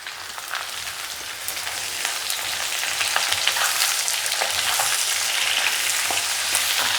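Chopped onions with asafoetida sauté in hot oil in a pan, giving off a steady, dense sizzle and crackle that builds a little and keeps going with no talking.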